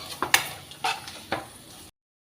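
Ground spices, cumin, turmeric and coriander powder, are stirred in a hot pan with a light sizzle and a few sharp spoon scrapes and taps against the metal.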